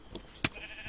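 Minecraft sheep bleating in the video game, a few short bleats in quick succession, the sharpest one midway and another cut off at the end.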